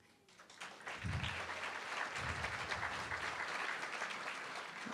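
A crowd at a community center grand opening and ribbon cutting breaks into sustained applause for council members. The dense, even clapping swells quickly and holds strong, with a few voices mixed in.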